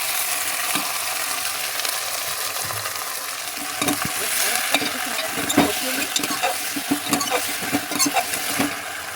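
Okra with onions and light spices stir-frying in a pan, giving a dense, steady sizzle close by, with stirring scrapes growing busier and louder toward the end, no voices.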